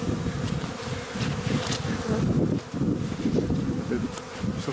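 Honeybees swarm around a hive at the Memorial University apiary, making a dense, close buzzing drone that rises and falls slightly but never stops.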